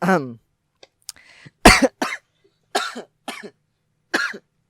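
Several short, sharp coughs in quick succession, spaced out over a few seconds, close to the microphone with a brief vocal sound at the start.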